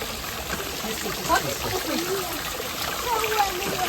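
Steady flowing cold water rushes throughout, with faint voices murmuring underneath and a couple of brief splashes.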